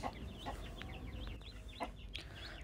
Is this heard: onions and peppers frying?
no